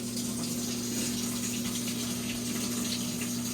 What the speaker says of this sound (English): so let's put some water in there